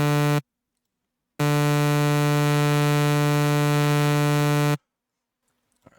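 Harsh buzzy square-wave synth tone rich in harmonics, heard as a short burst followed by a longer sustained note on a steady pitch, loud and alone, for a trap melody.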